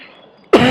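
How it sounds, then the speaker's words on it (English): A single sharp cough bursts out after half a second of near silence, loud and close to the microphone, with a short rough tail. "Excuse me, I'm gonna cough. I don't want to cough in the mic."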